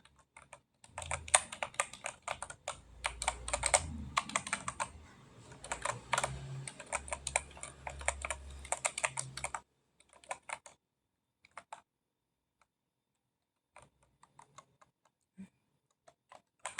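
Rapid typing on a computer keyboard while entering an IP address for database replication setup, dense clicking bursts for several seconds, then sparse isolated keystrokes with long pauses.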